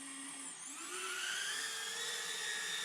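High-pitched whirring of the small motors of an Emax NanoHawk indoor drone hovering, spinning steadily, rising slightly in pitch partway through, close and continuous without any talking.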